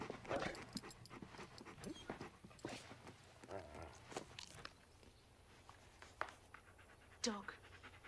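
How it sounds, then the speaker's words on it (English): A dog brought in as a playmate pants and moves about near a room where people talk, with soft footsteps and rustling and a few sharper bumps. "Dog."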